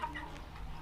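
A village chicken gives a brief, soft cluck or two while being fed, faint and close against a quiet outdoor background.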